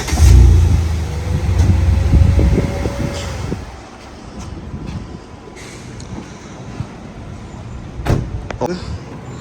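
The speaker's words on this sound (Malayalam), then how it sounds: "സൈലൻസർ നോട്ട് കൂടെ കേൾക്കാം" An off-road vehicle's engine and silencer exhaust give a deep, loud rumble for the first few seconds, then settle into a quieter idle with occasional faint knocks.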